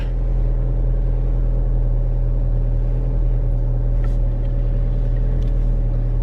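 Inside a moving car, a constant, loud low rumble of engine and road noise fills the cabin steadily from start to finish, with no talking.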